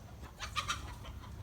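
A couple of short chicken clucks rise briefly over a steady low rumble, close by and fairly quiet.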